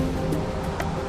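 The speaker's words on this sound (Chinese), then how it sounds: "人们可以在瀑布的内部感受水流的冲击力。" A waterfall in Guizhou roars in a constant, full wash of falling water, heard from inside a 134-metre cave behind the falls, with no pauses or voices.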